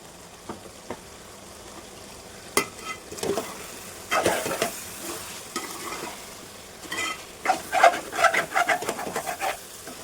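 Ground masala for chicken biryani frying in a pan, with a low steady sizzle and intermittent scraping stirs that grow louder and busier in bursts, birds chirping faintly in the background.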